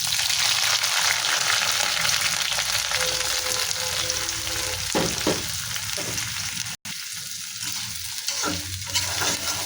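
Chopped onion, green chili and shrimp fry in hot mustard oil, a loud steady sizzle with the scrape and clatter of stirring throughout, close up and with no talking.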